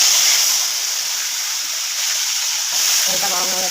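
Tilapia fish frying in hot mustard oil in a wok gives a steady, loud, broadband hiss and sizzle that dips briefly midway, with a voice murmuring near the end.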